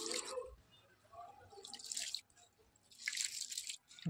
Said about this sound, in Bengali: একদম পরিষ্কার করে চালটাকে ধুয়ে নেব